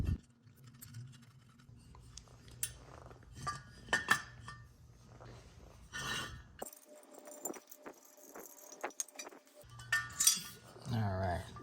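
Allen bolts, lock washers and serrated metal nuts for a 2022 Ford Bronco roof rack handled up close, with scattered light metallic clinks and jingles in irregular bursts between quiet pauses.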